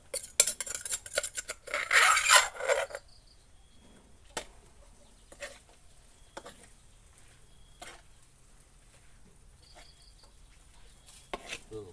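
Field rat stir-fry with lemongrass and chilli being stirred in a pan: a loud burst of metal-on-pan scraping and clatter at the start, then sparse scattered clinks and taps over quiet background with faint insect chirping.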